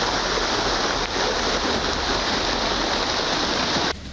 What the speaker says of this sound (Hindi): देश के ज्यादातर हिस्सों में लगातार हो रही बारिश लोगों पर कहर बनकर टूट रही है।